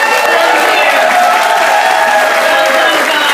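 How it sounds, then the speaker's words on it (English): A presentation audience breaks into loud, dense applause with some cheering, a continuous wash of clapping that fills the room at full volume throughout. "Round of applause for us."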